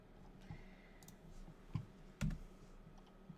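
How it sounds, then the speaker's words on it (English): Scattered computer keyboard typing during a live diary-reading session, a handful of distinct clicks and taps with pauses between them, quiet and close, with no voice. "but I'll just keep typing."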